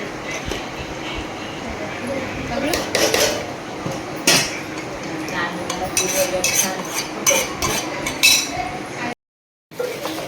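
A cashew modak mixture stirred in a pan over a gas stove, with repeated metallic scrapes and clinks of a spoon against the pan, loud and close, plus a brief dropout near the end.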